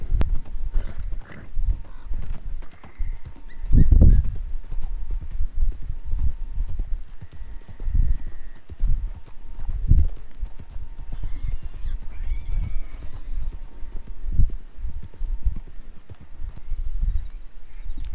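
A horse's hooves clip-clop at a steady walking pace in the video game Red Dead Redemption, close and loud, with an occasional snort or whinny and no talking over it.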